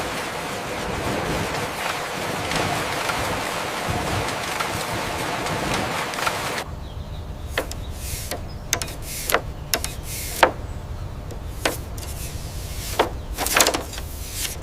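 Silk weaving looms run in a factory as a dense, continuous mechanical roar, then a quieter stretch follows with a steady hum broken by sharp, irregular clacks and knocks, with no talking.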